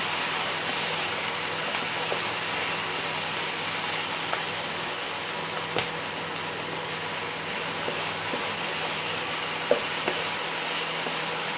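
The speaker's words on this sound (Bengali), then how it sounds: "এভাবে আমি সবগুলোকে আবার একবার নেড়ে নিলাম" Mixed vegetables fry in a pan with a continuous broadband sizzle as they are stirred. Occasional soft clicks of a spatula come through, and no one speaks.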